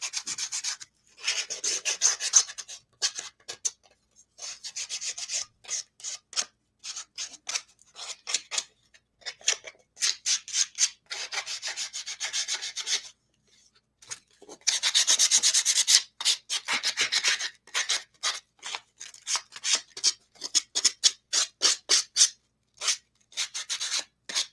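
Hand sanding along the edges of a small workpiece, a dry rasping scrape in quick back-and-forth strokes with short pauses between bursts, close up and alone.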